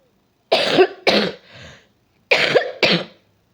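Several harsh coughs up close: two in quick succession, a softer rasp, a pause, then two more forceful coughs.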